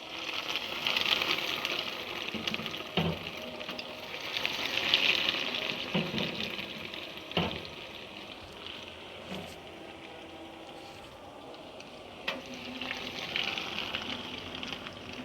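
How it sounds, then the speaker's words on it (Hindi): Potato bread donuts shallow frying in hot oil give off a steady broadband sizzle, with a few louder crackles and pops over about fifteen seconds and no voices. "ऑयल गर्म हो चुका है, इसको आप शैलो फ्राई करेंगे"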